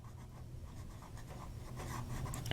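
A Sailor fountain pen with a hard medium Japanese nib glides across paper, a soft continuous scratchy whisper of writing that grows slightly louder toward the end.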